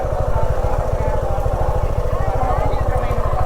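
A motorcycle engine idles steadily at close range while the rider parks at a roadside stop, its even low throb continuous and fairly loud, with people talking over it.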